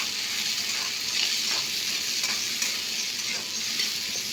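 Soaked black-eyed peas fry in oil in a pan, giving a steady close sizzle broken by several soft stirring scrapes, with no voices.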